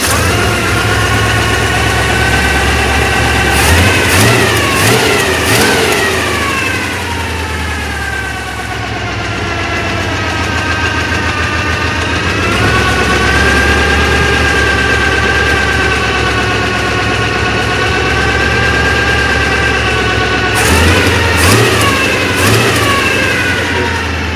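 A car engine fitted with a swapped carburetor runs loud and close, idling with a rough lumpy rumble and rising into several revving bursts that climb and fall, with a crisp blip near the start and another near the end.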